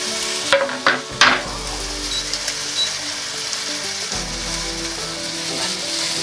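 Leek and garlic sautéing gently over low heat in a pan for fish and prawn cannelloni, a steady soft sizzle after a few brief utensil clicks near the start.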